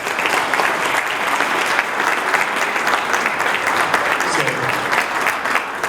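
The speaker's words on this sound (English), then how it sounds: "So give him another round of applause" Audience applause at a Rotary club meeting, a steady wash of many hands clapping that holds at a fairly loud level for several seconds, with some talk mixed in underneath.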